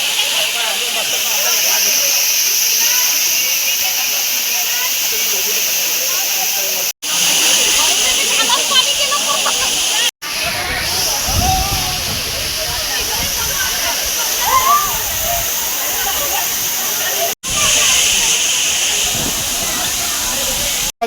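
Rushing water at Bhivpuri waterfall makes a loud, steady broadband roar that continues through the clip, broken only by a few brief cuts.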